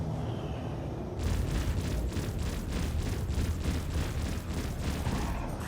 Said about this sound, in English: That was a big explosion, but I guess I didn't get him.